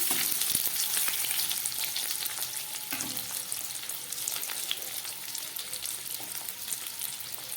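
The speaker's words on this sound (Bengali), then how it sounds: "তেলটা গরম হয়ে গেছে, এবার এই তেলের মধ্যে আমি আলুগুলোকে ভেজে দিচ্ছি।" Boiled potatoes fry in hot oil for a Bengali aloo dum, giving a steady, close, moderately loud sizzle that crackles on without pause and without any talk.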